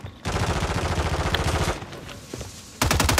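Rapid automatic gunfire in a multiplayer shooter game rattles in sustained bursts, breaks off briefly, then resumes loudly near the end.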